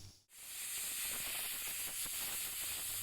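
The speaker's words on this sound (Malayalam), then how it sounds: "കുക്കറിൽ ആവിയൊക്കെ പോകുന്നത് വരെ നമുക്ക് വെയിറ്റ് ചെയ്യാം" After a brief pause, a loud continuous hiss of steam rushes out of a pressure cooker, cooking sambar, after its whistles, and keeps going without letup.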